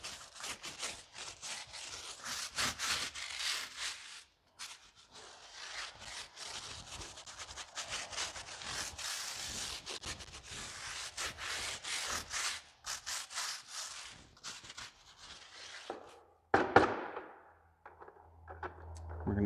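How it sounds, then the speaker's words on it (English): A sidewall brush scrubs the tire of a ceramic coated car, giving steady, close, bristly rubbing strokes in bursts with brief pauses, followed by a few knocks and handling sounds near the end. "now we're going to take our sidewall brush"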